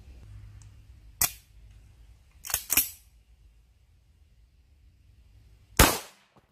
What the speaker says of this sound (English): We're gonna test it with the rifle in 12 caliber,